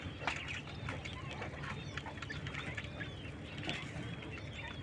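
King quails on a small farm give soft, repeated high chirps and calls against a steady low background hum, faint and distant with no talk.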